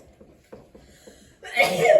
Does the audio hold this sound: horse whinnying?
no